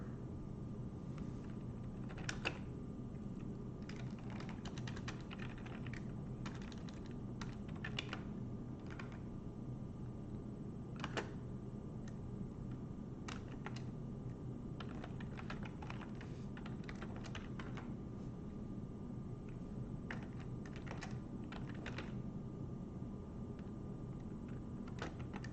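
Computer keyboard typing while entering LaTeX math, a steady stream of soft, irregular key clicks with occasional sharper taps, close and continuous throughout, with no talking.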